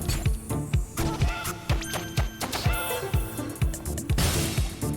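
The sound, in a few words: video game music track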